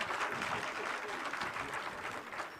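A crowd at a kavi sammelan poetry gathering in a Samajwadi Party office breaks into dense, loud applause, mixed with a murmur of crowd voices throughout.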